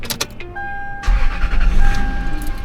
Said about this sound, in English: Be sure to start the engine prior to using the impact wrench.